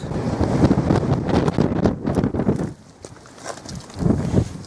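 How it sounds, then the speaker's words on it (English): Strong wind gusts roar and buffet the microphone in a steady rush on a hilltop facing the Cheviot, easing briefly before surging again. "Very windy indeed."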